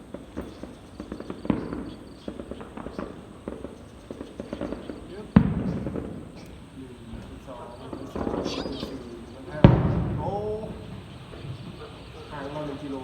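Fireworks burst at a distance, with sharp booms and crackles scattered over the scene. People talk throughout over the rumble of the display.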